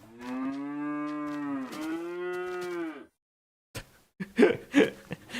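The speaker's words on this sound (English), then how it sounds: "Cows!" Cows in Minecraft lowing with the old original sound effects, two long drawn-out moos back to back, followed by a pause and a few short clattering game noises.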